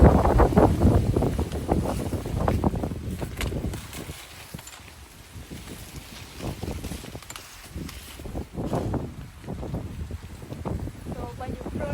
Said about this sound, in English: the wind is moving a bit, then that make the whole tree go